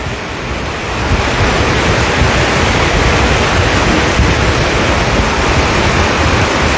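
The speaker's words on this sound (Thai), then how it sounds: "แต่ถ้าอยู่ตรงนี้เสียงฝนมันดังแบบคลาสสิกดีนะทุกคน" Heavy rain drums on a metal sheet roof in a loud, dense, unbroken hiss that swells slightly after the first second and then holds steady.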